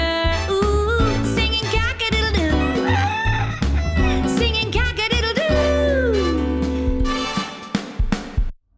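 A rooster crows several times over layered animal noises and music, loud and close, ending abruptly.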